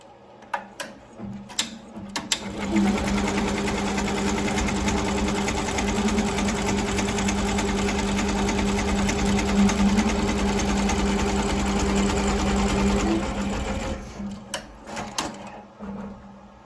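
An embroidery machine stitches a yarn design in a long, steady mechanical run with a constant whirring hum, framed by a few handling clicks and knocks before it starts and after it stops.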